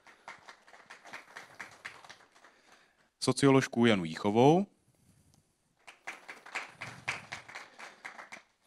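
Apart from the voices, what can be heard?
short applause for introduced guests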